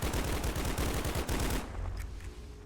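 Rapid bursts of video game gunfire from V.O.D.K.A. rattle loudly in quick succession for over a second, then break off into quieter ambient game noise, with no one talking.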